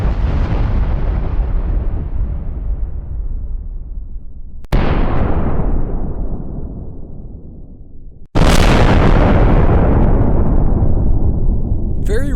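Three AI-generated explosion effects in a row, each a loud booming blast with a long rumbling decay, the last one hardest and brightest, cut off abruptly.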